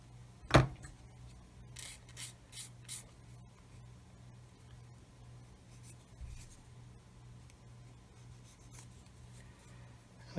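Small tool scraping and clicks while removing a sprue nib from a plastic part of a Meng 1/35 9K37M1 BUK model kit: one sharp snap near the start, then light rhythmic scraping strokes, close and quiet over a steady hum.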